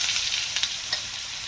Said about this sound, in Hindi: बिल्कुल हल्की आंच पे आपने इसको पकाना है, ताकि चिकन कच्चा ना रहे और अच्छे तरीके से पक जाए।